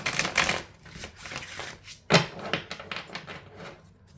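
Tarot cards shuffled close up, a run of crisp riffling flutters and slaps with one sharper snap midway, heard alone without talk.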